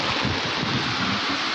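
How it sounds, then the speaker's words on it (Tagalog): Strong wind roars steadily against the microphone during flooding in Antipolo, with a broad, rushing buffeting noise and no pauses. "Lakas ng hangin."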